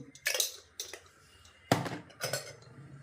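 A spoon clinks against a bowl while adding Kashmiri chili powder for a squid roast, with several close, bright metallic taps and scrapes in two short bursts and quiet gaps between, no talk.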